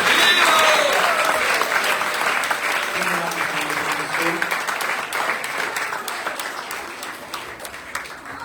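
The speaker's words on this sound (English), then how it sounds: "can we have a big round of applause again for these?" Sustained applause from a festival audience at a Festival of Unity gathering, dense clapping that fills the room and gradually thins toward the end, with faint voices underneath.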